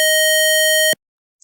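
Gas leak alarm buzzer on a Raspberry Pi Pico project with an MQ2 sensor, a loud steady electronic tone held for about a second before cutting off abruptly, followed by a faint short blip.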